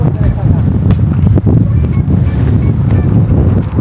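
Strong wind on a mountain near Hinton and Jasper roars steadily and loudly across the microphone with constant buffeting gusts throughout.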